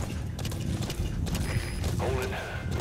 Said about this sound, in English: I've never rode a horse in any Metal Gear Solid game